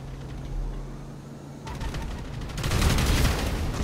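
Gunfire in GTA V Online: rapid automatic bursts crackle in, growing louder and denser in the second half as sustained firing rattles over a low game rumble.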